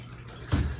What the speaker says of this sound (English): Catching the water in a bucket below your feet if you can